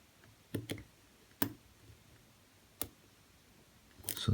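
Pins inside a Zone half euro cylinder lock being single pin picked give a few sharp, isolated clicks spaced over several seconds, close and crisp against a quiet background, with a louder rattle at the end.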